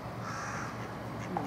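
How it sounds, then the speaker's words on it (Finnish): Hooded crow cawing near a bird feeding house, a few harsh rasping calls over a low background while faint voices murmur. "Nyt sinne tuli variski."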